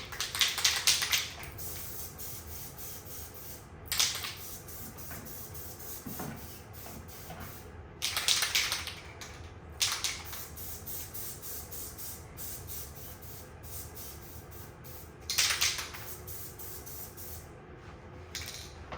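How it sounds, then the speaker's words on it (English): Short hissing bursts from an aerosol spray can hit a paper craft tote project, with several separate sprays spaced a few seconds apart and quiet pauses between them. "All right, so I'm gonna go ahead and spray."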